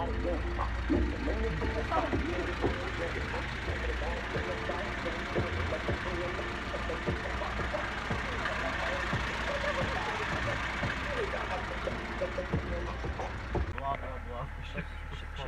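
A rattly old car engine idles steadily for a long stretch, a continuous low rumble under road and cabin noise, with people talking over it throughout.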